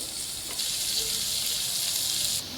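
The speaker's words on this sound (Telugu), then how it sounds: "వీటన్నిటిని కూడా లైట్గా వేయించుకోవాలి" Vegetables sizzling steadily in a hot pan for chicken fried rice, giving off a continuous moderate hiss with no pauses.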